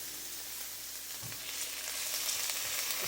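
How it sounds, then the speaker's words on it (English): Broccoli and onions sauté in a pan with a steady, close frying sizzle that grows slightly louder toward the end, a few soft low bumps underneath and no talking. "Sauteing some broccoli and onions."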